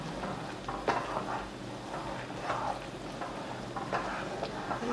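Urad dal flour is stirred steadily into boiling water for a sweet kesari, giving a continuous bubbling, scraping hiss with soft irregular clicks of the spoon against the pot, close and moderately loud, with no talk.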